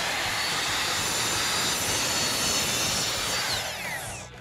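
A power saw cuts through a barnwood board, a loud, continuous broadband whine that holds steady for about four seconds before tapering off near the end.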